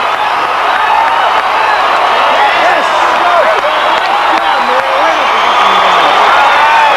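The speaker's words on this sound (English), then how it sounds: "Listen to the crowd." A gymnastics arena crowd at the 1991 World Championships roars with sustained cheering, whoops and applause after a high bar triple-back dismount landing, a dense, steady wall of noise throughout.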